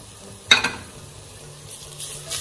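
Coarsely crushed garlic hits hot oil with a sharp sizzle in a Punjabi-style karri pakora masala, then settles into a soft, steady frying hiss.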